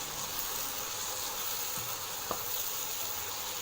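Chicken masala with coriander and curry leaves is stirred in a pan, a soft, steady sizzle and hiss broken by a faint scrape or clink of the spoon partway through.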